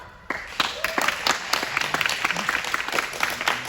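An audience applauds as a show-of-hands vote at a detective-themed event, bursting in suddenly after a quiet moment and then continuing as dense, steady clapping with a few sharp individual claps standing out.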